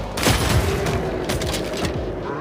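Gunfire in the Solo Leveling video game, several rapid booming shots in close succession over a dense, loud background, with no talking.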